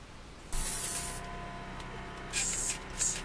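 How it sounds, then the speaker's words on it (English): Several short hissing sprays from an aerosol can of ant insecticide, one longer burst followed by two brief ones, close by against a quiet background. "So now we go ahead and we spray for the ants."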